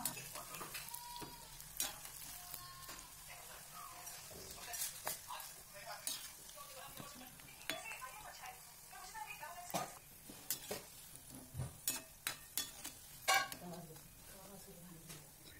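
Medium-sized cabbage Manchurian balls deep-fry in oil with a soft, steady sizzle, punctuated by frequent clinks and taps of a utensil against the pan, while someone talks over it.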